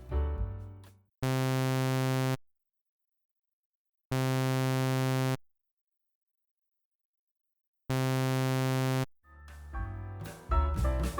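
Three identical sustained notes from a Serum synthesizer sub oscillator with direct out switched on, so the reverb is bypassed: each tone cuts off dry with no lingering tail, separated by silence, with other busier synth sounds at the start and end.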